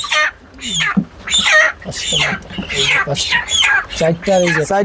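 Broiler chickens on a farm, being weighed in a bucket, cluck loudly and close in a rapid, continuous series of sharp, squawking calls with no talk over them.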